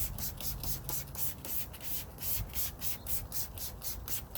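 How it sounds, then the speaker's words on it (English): Wheel acid cleaner sprayed from a trigger bottle onto a car wheel and tire, a series of quick, close hissing spritzes in a steady rhythm, with no talk. "but I'm going to go ahead and spray the tire as well."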